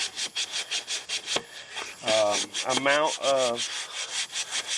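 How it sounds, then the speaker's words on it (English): A car headlight is sanded by hand with sandpaper, a steady back-and-forth rasping scrub in quick rhythmic strokes, close by, with someone talking briefly in the middle. "we're going to do that side also with a little bit of this sandpaper prior"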